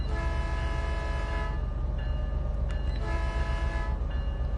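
A train horn in the video game Train Sim World 5 sounds two long, loud, steady blasts: the first about a second and a half, then a short gap before a longer second one.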